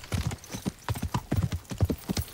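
Horse hooves clip-clop steadily as a rider travels on horseback in the medieval video game Kingdom Come Deliverance, a close, even rhythm of hoof strikes with no talk.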